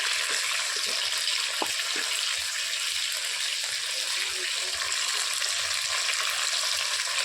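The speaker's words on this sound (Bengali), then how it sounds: "আলুটাকে এবার ভেজে নেব লাল লাল করে" Potatoes frying in a pan with salt and turmeric added, giving a steady, even sizzle of hot oil throughout with a few light clinks and stirs, close and continuous with no talking.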